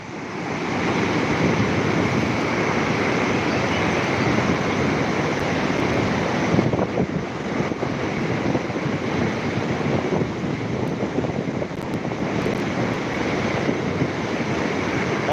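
Loud, steady roar of rushing river water that goes on unbroken throughout, with no voices.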